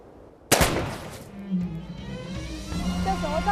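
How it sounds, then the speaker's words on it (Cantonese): A single sharp pistol shot cracks out loud and close during night shooting practice in a period TV drama scene, followed by a ringing decay and faint voices afterward. "莫講話槍聲嘈吵"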